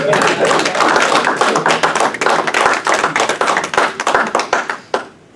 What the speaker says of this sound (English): Give a round of applause real quick.